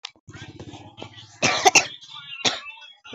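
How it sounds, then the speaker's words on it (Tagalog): Several close coughs come from a person who has had a cough and cold since the night before, one harsh burst followed by another, along with some throat sounds and a few faint murmured vocal noises. "Umuubo pa ako"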